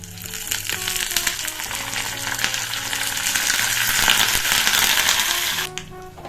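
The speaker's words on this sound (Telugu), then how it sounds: "జీడిపప్పు ఎర్రగా వచ్చేదాకా పప్పు వేయించుకోవాలండి ఇప్పుడు ఇందులో కొంచెం కరివేపాకు కూడా వేసుకుందాం" Cashews and curry leaves frying in oil in a pan, a steady dense sizzle with faint crackles throughout, no voices.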